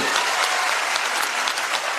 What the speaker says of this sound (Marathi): एकदा जोरदार टाळ्या होत्या विचार मंचासाठी